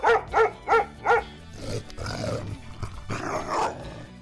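A dog and its puppy play, with four evenly spaced barks up close at the start, followed by rougher growling, snuffling and yelping sounds.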